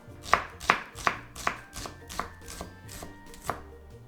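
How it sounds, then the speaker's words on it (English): Shallots are sliced with a sharp knife on a board, nine crisp, evenly spaced chops about every half second, close and distinct with no talk. "We'll start with shallots. Just slice them."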